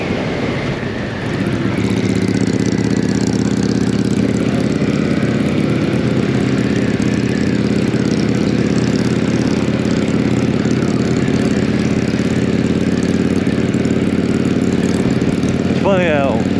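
A loud, steady 2022 Kawasaki Z650 motorcycle engine rumble idles throughout with a low, throbbing exhaust note, close by and continuous, with a brief rising whine near the end.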